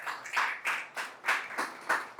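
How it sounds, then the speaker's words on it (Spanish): A church congregation claps for Jesus in a sermon setting: about seven sharp, spaced bursts of handclaps, fairly close and moderately loud, with no talking over them. "Dale un aplauso a Jesús"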